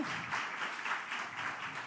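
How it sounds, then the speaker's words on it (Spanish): An audience gives applause welcoming two guests at a talk on depression, a soft, even wash of clapping heard at a distance, faint and continuous throughout, with no voices over it. "Quiero pedirles, por favor, que nos reciban un fuerte aplauso"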